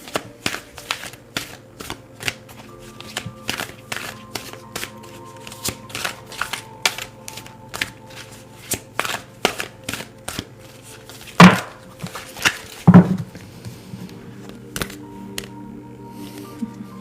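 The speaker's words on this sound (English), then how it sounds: "I'm going to reshuffle until we just get one" Tarot cards riffled and shuffled close up in a steady run of crisp flicking bursts for many seconds, broken by two louder slaps of the deck near the end, with no talk.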